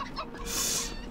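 A chicken clucks in the video game Hand Simulator Horror, a short, close cluck rising over a noisy ambient background.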